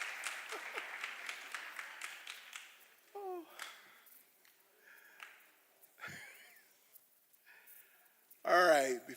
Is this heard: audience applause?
yes